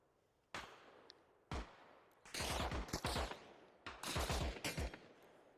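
Bursts of gunfire in the military shooter Arma Reforger, with single sharp shots followed by loud, rapid volleys that crackle close by.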